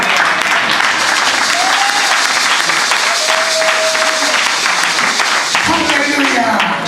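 A church congregation applauds and cheers for the Lord in a loud, sustained burst of clapping with shouts and whoops rising through it, and voices calling out over the crowd.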